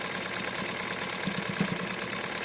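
A sewing machine runs steadily while stitching a Barbie pant set from a Simplicity 6244 pattern, making a continuous close whirring hum with a faint rapid pulse and no pauses.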